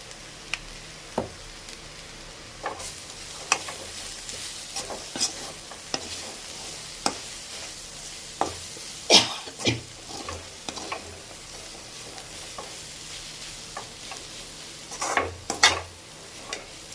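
Capsicum stir-fry with coconut being stirred in a pan: a close spoon scrapes and taps against the pan in irregular strokes over a faint sizzle, with a few louder knocks.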